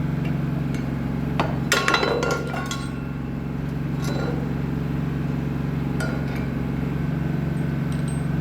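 A hammer drives a wedge anchor home, a handful of sharp metallic strikes clustered early then scattered lighter taps, close by over a steady low hum.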